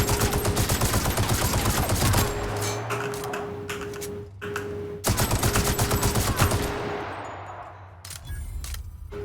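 Assault rifle gunfire against marauders in the video game The Outer Worlds: rapid automatic bursts crack loudly and repeatedly, with brief pauses between volleys and a short lull near the end.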